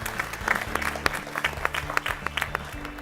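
Audience applause at a school quiz national final, a crowd clapping with distinct, irregular hand claps and a low hum underneath, fairly close and steady throughout.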